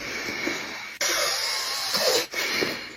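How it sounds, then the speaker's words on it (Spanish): Loud, congested breathing close by, rough hissing breaths in and out with snorty nasal texture, continuous with two brief breaks between breaths. "Estás respirando muy fuerte"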